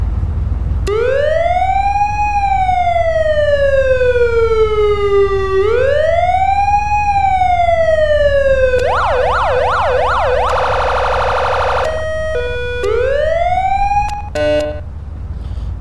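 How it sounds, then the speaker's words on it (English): Tokyo police car siren in Garry's Mod, loud and close: two long rising-and-falling wails, then a fast warbling yelp, a short steady tone, and a brief stuttering burst near the end, with no voices. "Sounds like a Tokyo police car,"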